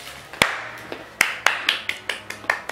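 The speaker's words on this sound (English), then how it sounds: "You don't get a full set of applause. You got a clap and a half." Sharp hand claps close to the microphone, about ten crisp, irregularly spaced smacks, each one short with a quick decay, and no talking over them.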